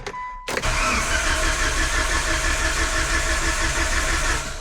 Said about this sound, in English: So let's start this thing up, or at least crank it.